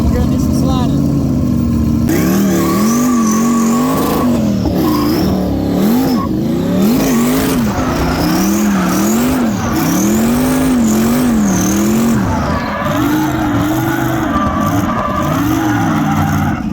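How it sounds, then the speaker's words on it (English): A car on drift tires slides at a drifting and burnout event. Its engine revs hard, rising and falling over and over, while tires squeal loudly and continuously, close and dominant throughout. "We are in the staging lanes right now for drifting."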